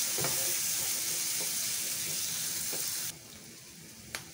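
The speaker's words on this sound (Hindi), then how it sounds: "अब हम इसमें 1/2 कप भिगो हुई चने की दाल को शामिल करेंगे।" Soaked, uncooked chana dal goes into a hot pan for a pumpkin curry, giving a loud, broad sizzle for about three seconds that then drops to a quiet simmer, with a few light clinks and no talking.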